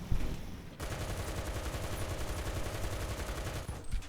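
Rapid gunfire from an M24 Chaffee tank in the War Thunder video game, a long continuous burst of fast repeated shots after a brief opening report, loud and close with no talk.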